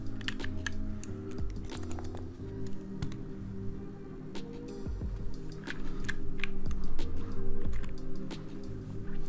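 Keycaps on a mechanical keyboard build are pressed one after another, producing a steady run of close, sharp clacks and taps over a low background hum.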